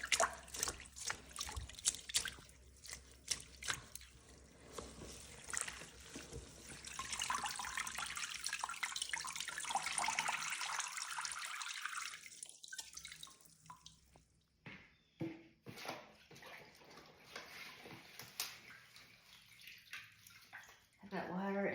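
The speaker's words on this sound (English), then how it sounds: "So I'm gonna just take this, give it a rinse, try and get the bugs out." Goldenrod rinsed under running water from a tap, a steady wash of splashing and trickling that thins into scattered drips and splashes, with a voice talking now and then.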